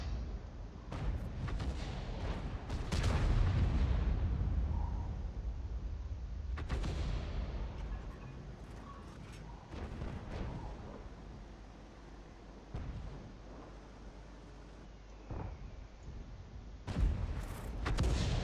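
Shots from a self-propelled artillery gun, an Object 261, in World of Tanks: several heavy booming blasts spread across the stretch, with a rumbling game soundscape between them.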